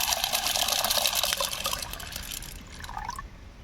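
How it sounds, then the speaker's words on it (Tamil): Water is poured steadily into a container, a close, rushing splash for about two seconds that then tapers off into quieter trickling. "நம்ம வந்து இப்போ நல்லா தண்ணி ஊற்றிக்கிடுவோம்."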